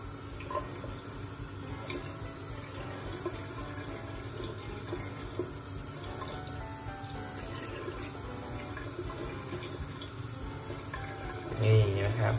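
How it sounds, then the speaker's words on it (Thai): A tap run gently over eyeglasses while they are washed gives a steady, soft stream of water splashing close by into a sink, continuous throughout, with a brief louder splash near the end. "ให้เราเปิดน้ำเบาๆนะครับเราค่อยเกลี่ยน้ำให้มันลงไปข้างล่างนะครับ"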